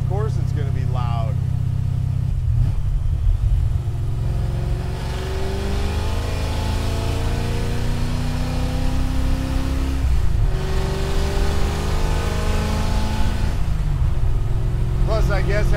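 A 1966 Shelby GT350 replica with no interior sound deadening roars loudly from inside the cabin, its engine revving through repeated rising pulls with gear changes; voices speak briefly at the start and end.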